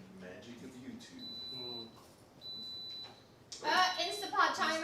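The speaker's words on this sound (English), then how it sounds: "Instapot timer. Part is done." An Instant Pot pressure cooker timer beeps in a kitchen, two steady electronic tones each lasting about a second, with people talking over and between the beeps.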